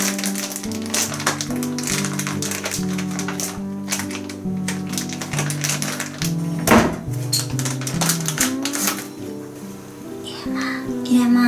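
Takoyaki flour being mixed into batter in a bowl, a steady clatter and scrape of utensil against the bowl running the whole time beneath music and occasional voices.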